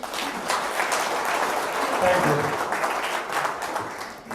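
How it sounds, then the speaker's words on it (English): An audience at a real estate investment dinner applauds a guest speaker, a soft, steady spread of clapping with a brief spoken thanks over it. "So round of applause for Bud, please"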